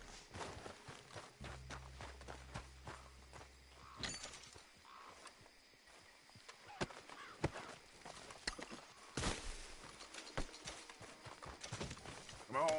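Horse hooves clip-clop in Red Dead Redemption 2, a steady rhythmic beat of close footfalls continuing throughout with faint ambient noise underneath.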